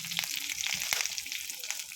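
Mustard seeds, cumin and curry leaves sizzle in hot oil for a bottle gourd kootu: a steady close hiss scattered with small pops and crackles, and no voices.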